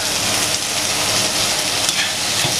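Tomatoes sautéing in a pan with onion and ginger-garlic paste for a spicy yam curry give a steady, close, dense sizzle throughout, with no talking.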